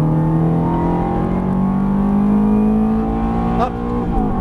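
A Ferrari F430's engine wails at full throttle, a loud rising howl climbing steadily in pitch before a brief dip near the end, close up inside the car.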